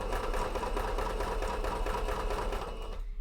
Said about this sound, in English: because my sewing machine is just loud